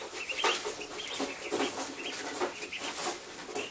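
A four-day-old duckling makes quiet, repeated high peeping quacks in quick short bursts, faint and close, with no other sounds around it.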